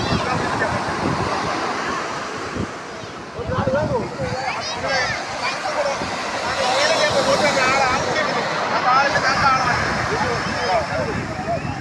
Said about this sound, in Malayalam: അടിപൊളി തിരമാല കേട്ടോ.